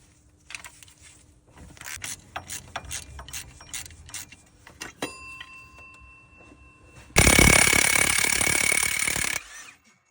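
A ratchet wrench works 15mm bolts off the bracket holding the viscous fan pulley on a Ford Ranger during a wet timing belt job, with repeated close clicking bursts and a loud sustained rasp near the end.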